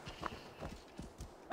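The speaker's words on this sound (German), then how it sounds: "Dann rufen wir mal unser treues Pferdchen." Hoofbeats of a horse summoned in a video game, a quick clip-clop rhythm of several steps approaching at moderate volume with no talk over it.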